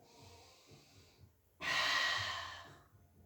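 A person doing a Pilates mat exercise breathes softly in, then gives a loud, forceful exhale that tapers off, close and alone.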